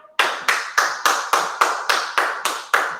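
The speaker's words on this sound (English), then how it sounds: "Let's give yourself a hand of applause" Rhythmic group clapping at a morning inspiration and workout gathering: nine loud, sharp, evenly spaced claps about a quarter second apart, close by, with no talking.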